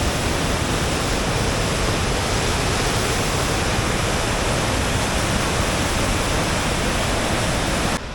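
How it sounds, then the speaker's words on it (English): A stunning waterfall roars in a dense, steady wash of rushing water that fills the whole stretch at close range, unbroken and with no voices. "And it is a stunning waterfall."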